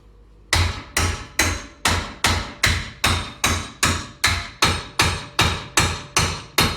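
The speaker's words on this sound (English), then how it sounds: "Big metal hammer." A big metal hammer strikes hard again and again in a steady, even rhythm in a garage, each blow loud and ringing briefly, with nothing else heard.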